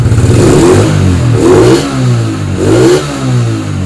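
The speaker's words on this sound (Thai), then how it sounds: "เสียงดี เสียงเพาะเร่งดีนิ่มนุ่มนวลครับ" A Yamaha Spark 135 motorcycle with a carburetor and an open stainless exhaust revs loudly and close by in three smooth throttle blips, dropping back to a burbling idle between them.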